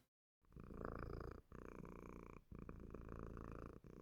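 A steady, low rumbling purr, close and continuous, with a few brief pauses between breaths.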